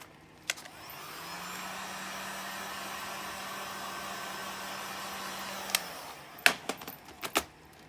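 A heat gun blows steadily for about five seconds while warming vinyl wrap film on a car rear spoiler antenna, a close even whoosh with a low hum, followed by a few sharp handling clicks and taps.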